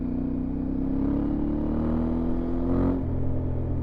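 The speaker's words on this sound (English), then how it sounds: "The engine is very punchy, but the throttle response is very predictable." Aprilia Tuareg 660 motorcycle engine on a test ride, a steady close-up drone with a rising tone as it pulls, dropping off near the end, with no talk.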